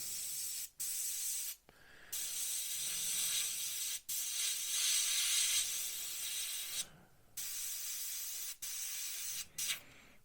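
Airbrush spraying Tamiya acrylic paint onto a Revell PBY-5 Catalina model kit, a steady close hiss in several long bursts separated by short silent gaps.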